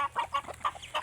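Quick, close chicken clucks, several short bursts in a rapid uneven rhythm.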